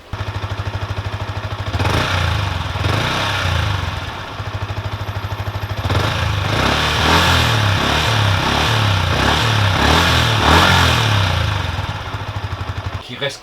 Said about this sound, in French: Le pot d'échappement.